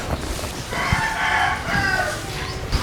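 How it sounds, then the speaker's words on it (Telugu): A fighting rooster that won a Sankranti cockfight bet crows once, a drawn-out, moderately loud call lasting over a second, close by and without speech. "మొన్న సంక్రాంతికి పందెం కొట్టిన కోడి ఇది"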